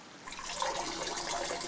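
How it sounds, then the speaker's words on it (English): A person peeing into a water bottle outdoors at night in the cold, a steady trickling liquid stream splashing into the bottle, close and fairly quiet, with no talking. "I'm peeing in Wally's water bottle."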